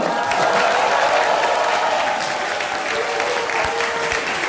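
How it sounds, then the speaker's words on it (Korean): Sustained audience applause fills a hotel function room during a Democratic Party public report rally in Incheon, a dense, steady wash of many hands clapping at full volume throughout, with no clear speech over it. "박수 한번 주세요"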